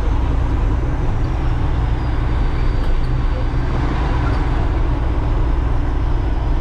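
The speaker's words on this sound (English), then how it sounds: "Garbage truck leaving." Heavy garbage truck rumbling steadily nearby in a dusty landfill, a continuous loud low engine drone with road noise and no voices.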